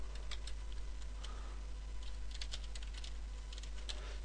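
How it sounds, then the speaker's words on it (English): Close computer keyboard typing while writing a PHP file in a text editor on Fedora 9, quick irregular key clicks throughout over a steady low electrical hum, no voice. "we could type a quick PHP file"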